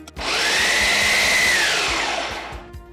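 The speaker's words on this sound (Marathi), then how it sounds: "चिंच गुळाचं जे पाणी आहे हे मिक्सरमध्ये छान याची प्युरी तयार करूयात." A kitchen mixer grinder whirs loudly as it blends tamarind and jaggery water into a smooth puree, running steadily for about two seconds with a rising whine before winding down, with no voices.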